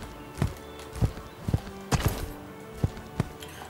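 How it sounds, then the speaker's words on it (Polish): Horse hooves clip-clopping on a hard surface as the horse is led to the stable, a series of uneven, moderately loud knocks at a slow walking rhythm. "Odstawimy sobie konia do stajni"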